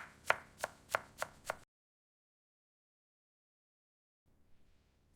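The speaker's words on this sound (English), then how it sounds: "Just cut these veggies" A knife chops vegetables on a board in five crisp, evenly spaced strikes, close and clear, then silence, with faint low rustling near the end.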